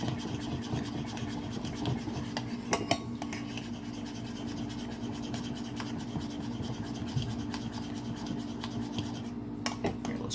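Cream stirred by hand in a bowl held upright while trying to whip it, a continuous close scraping and rubbing of the utensil against the bowl with occasional louder clicks.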